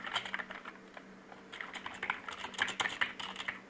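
Quick, steady clatter of keys on a computer keyboard while PHP code is typed, close-up and fairly quiet, with irregular bursts of keystrokes and no talking.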